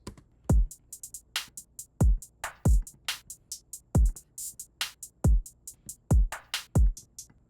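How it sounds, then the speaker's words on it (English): A full drum kit plays a steady groove: deep kick thumps, sharp snare cracks and bright hi-hat ticks, clear and up close with no voices. "All the drums together sound like this."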